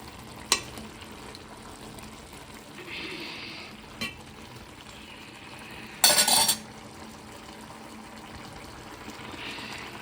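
Paneer pieces boil in a pot of biryani with rice, making a quiet simmering hiss broken by a few light clinks and one brief, sharp scrape of stirring midway.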